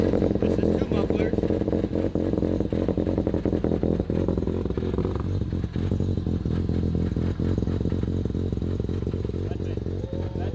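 Rotary-engine Corvette idling through two mufflers, a loud, close, steady burbling drone with rapid choppy pulses and a light rev near the middle, while people talk over it.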